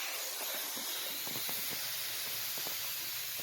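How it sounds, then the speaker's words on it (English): Steady broadband hiss of steam escaping from the sides of a McCulloch MC1230 handheld steam cleaner, continuous and fairly faint, with small clicks and taps over it. "See right there, all the steam's coming out right here on the sides."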